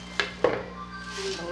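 A spoon stirring food in a pan, two sharp metallic clinks close together followed by a softer scrape, brief and close.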